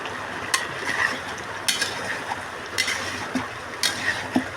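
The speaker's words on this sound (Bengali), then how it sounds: "আমি এবার মাংসটা দিয়ে দিলাম। এবার নেড়ে দিব একসাথে।" Meat and potatoes are stirred together in a frying pan, with a soft background sizzle and repeated rhythmic scraping strokes of a spatula every second or so.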